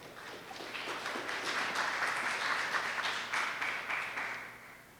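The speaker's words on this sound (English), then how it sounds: "let's give her a round of applause" An audience at a literacy campaign launch applauds for a guest speaker called forward, a moderate, continuous patter of clapping that swells and then tapers off.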